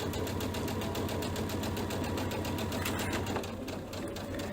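A sewing machine stitches fabric for a quilted bench buddy project, its steady rapid needle rhythm running close and continuous, easing slightly near the end.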